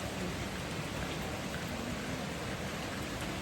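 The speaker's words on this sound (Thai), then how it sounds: "ตอนนี้ฝนตก" Steady rain falls over a rural village, a dense, even hiss of drops with no pauses and no voices.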